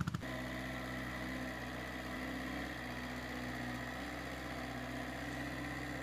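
A mini tractor engine fitted with a cab idles steadily nearby with a continuous, even rumble and faint rattle after a brief clunk at the start.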